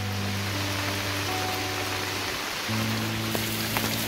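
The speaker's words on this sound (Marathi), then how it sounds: "पावसाला जोर आहे आज" Heavy rain pours steadily in a Konkan village, a dense continuous hiss with no voices, while a low steady hum runs beneath it.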